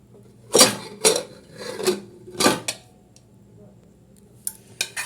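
A pressure cooker of egg kurma is opened after its steam has been let out, giving a handful of sharp metallic clanks and rattles with short quiet gaps between them.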